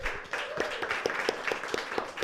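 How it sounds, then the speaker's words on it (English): At a film marketing and distribution panel, a small audience gives a short burst of applause, with a few distinct, fairly even hand claps close by. "Can we get a round of applause?"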